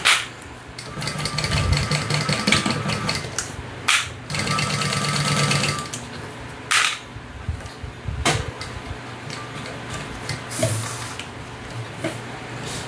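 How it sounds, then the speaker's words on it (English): A sewing machine stitches steadily around the edge of a hip bag, running in bursts with short pauses and clicks between passes, close and fairly loud with no talking. "I'm just going to sew all the way around the edge, and then we're going to turn it out to top stitch."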